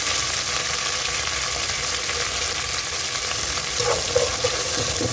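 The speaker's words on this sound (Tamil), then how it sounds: "வெங்காயம் பாருங்கள் நல்லா வதங்கிட்டு இருக்குது" Onions, curry leaves and green chillies sauté for fish curry in a pan, a dense, steady, loud sizzling hiss heard close up, with a few faint stirring clinks and no talking.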